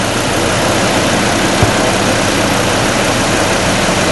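A Hummer H3 idles steadily with its headlights and four front off-road lights switched on, giving a constant, close low engine drone with no talking.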